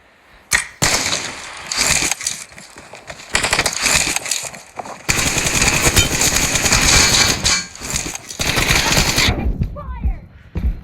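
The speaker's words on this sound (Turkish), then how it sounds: "Ben silah seslerini kısacağım siz daha iyi duyun diye." Loud bursts of rapid gunfire crackle in separate volleys with short gaps between them, sharp and close, in the video game PUBG Mobile.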